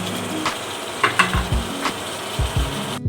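Chicken sautéing in a pan for Filipino bihon noodles gives a soft background sizzle broken by a series of clinking, scraping stirs of a utensil against the pan, close and without talk.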